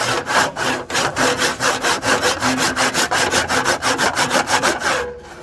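A hand saw cuts through a thick timber joint, its close, loud rasping strokes repeating in a steady rhythm and trailing off at the end.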